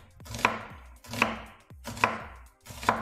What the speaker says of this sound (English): Okay, so I'm just gonna cut it like this,